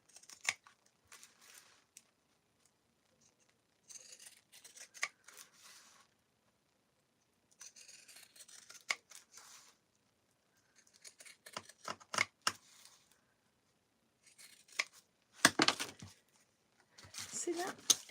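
Pinking shears cut through paper while making a strawberry-themed journal, giving several separated bursts of crisp, close snipping and rustling, with a soft voice talking between cuts.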